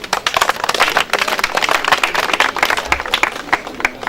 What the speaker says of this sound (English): Can we please clap for this lady?